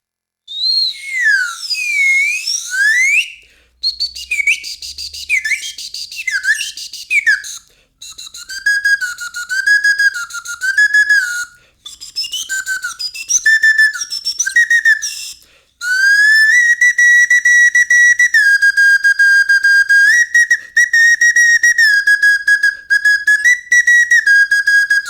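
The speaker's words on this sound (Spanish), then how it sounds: "pero no, es un pito de émbolo." A piston slide whistle, an instrument used by the Mexica, played alone, loud and close, its pitch swooping up and down in wavy glides, then holding longer sustained tones with short breaks.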